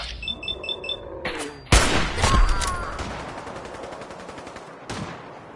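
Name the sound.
gunfire in video game Fallout 4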